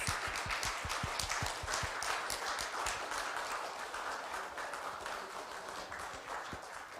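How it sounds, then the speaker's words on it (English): Crowd applause at the signing ceremony for the Indonesia–Korea CEPA trade agreement, a sustained wash of many hands clapping, with a few sharper claps standing out near the start, then holding steady throughout. "why don't you give another big round of applause?"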